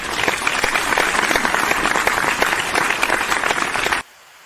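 A post-game show audience breaks into a dense round of applause for a Broncos coach's turnaround, steady and loud for about four seconds before cutting off abruptly into near silence.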